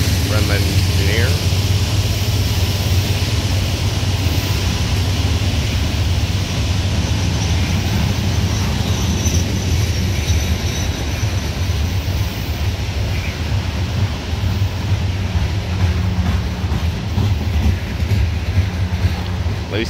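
CSX coal train with three locomotives up front, hauling a heavy load up the Parrs Ridge grade on the old B&O mainline near Plane, drones as a steady, loud low engine rumble throughout without letup.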